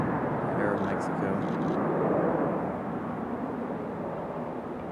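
Aeromexico airliner at Raleigh-Durham International Airport, a broad, steady jet engine roar heard from a distance, with faint voices in the background early on.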